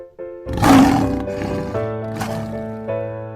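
A lion roars threateningly as an audiobook sound effect, one loud, sustained, rumbling roar that swells early and then carries on with a second, quieter surge, with a tonal music bed beneath.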